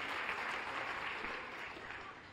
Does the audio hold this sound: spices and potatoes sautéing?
no